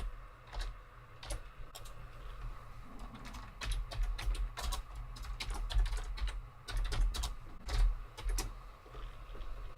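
A name typed on a computer keyboard, with quick irregular bursts of clicky keystrokes and short pauses between them, close and quiet.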